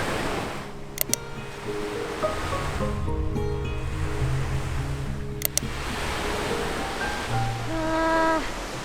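Ocean waves wash onto a beach at Georgetown, Penang, in Malaysia, a steady surf hiss with swelling breaks, faint background voices and a few sharp clicks.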